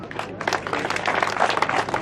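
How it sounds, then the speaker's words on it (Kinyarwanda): A crowd at a Green Party campaign gathering in Gakenke claps to welcome a preacher, producing dense, continuous applause that fills the whole short stretch at moderate loudness, with no talking. "Amashyi menshi rero mu kwakira umuvugabutumwa wacu"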